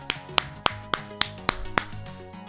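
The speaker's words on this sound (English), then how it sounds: "Everybody clap it up." Sharp, isolated claps sound in a loose, uneven rhythm, about eight distinct smacks over a couple of seconds, close and fairly clear against a faint steady background, with no talking.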